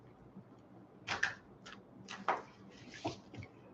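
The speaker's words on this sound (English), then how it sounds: "Just for fun, typing out my reading question now." Typing on a keyboard, a few scattered bursts of key clicks with pauses between, faint and close.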